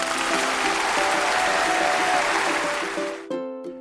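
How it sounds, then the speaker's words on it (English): An audience breaks into sustained applause, a dense, steady wash of clapping that fills most of the moment before cutting off abruptly as brief music takes over. "Now that deserves a round of applause."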